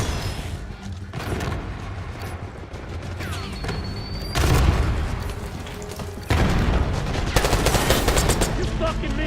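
Video game battle with bursts of rapid automatic gunfire and a flashbang, loud and dense, the firing heavier in the second half; game voices speak between the shots.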